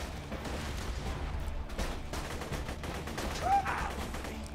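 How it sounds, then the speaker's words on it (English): Video game gunfire and a grenade explosion in Borderlands 2, with a burst of rapid shots and blasts under a busy, steady game soundscape. "That is a grenade."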